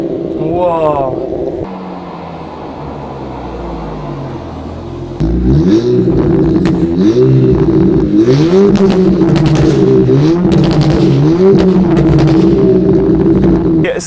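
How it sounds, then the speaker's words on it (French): A tuned stage 3 Golf 5 GTI engine revs loudly and up close, rising and falling through several repeated climbs, with a faint voice heard briefly near the start. "Si vous pouvez me dire votre petit avis sur la sonorité de sa Golf 5 GTI"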